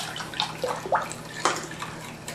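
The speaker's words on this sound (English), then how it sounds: "and you pour it in quickly" A cup of vinegar poured quickly into evaporated milk for homemade Donair sauce gives a few close, splashy liquid bursts and gurgles over a short span, with nothing else in the background.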